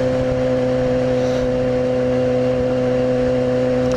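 Yamaha FZ6R sport motorcycle engine running loud and steady with a strong tonal hum, near and continuous with no talk, the pitch holding fairly even throughout.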